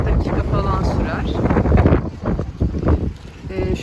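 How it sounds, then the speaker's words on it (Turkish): Steady wind gusts outdoors in Datça, Turkey buffet the microphone, producing a loud, rumbling roar that fills the whole clip. "Şu anda biraz rüzgar var."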